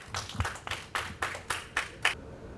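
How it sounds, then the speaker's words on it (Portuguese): Steady, evenly spaced clapping at an awards ceremony, about eight sharp claps in a regular rhythm at moderate volume, with no voices. "Uma salva de palmas."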